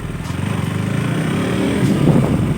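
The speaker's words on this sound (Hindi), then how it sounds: "देख लो किस तरह से ट्रैक पे चलती है ये RC 200 नई वाली, सेकेंड जनरेशन।" A 2022 KTM RC 200 second-generation motorcycle rides on a go-kart track, its single-cylinder engine giving a loud, close, pulsing drone that rises slightly toward the end.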